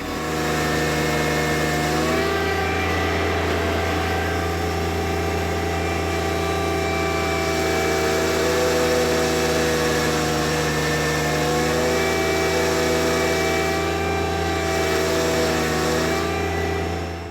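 A John Deere 1025R compact tractor engine runs at full throttle under a pulling load, a loud, steady, close drone with strong harmonics and slight pitch shifts as the strain changes, with no talk over it.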